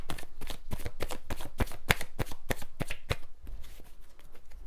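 A deck of tarot cards is shuffled by hand, a close, rapid run of crisp riffling slaps in quick rhythm, easing into softer sliding card sounds near the end.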